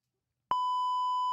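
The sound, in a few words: censor beep over a spoken word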